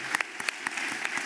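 A brief burst of scattered audience clapping at a children's charity concert, with a few sharp individual claps standing out over a soft, thin ripple of applause.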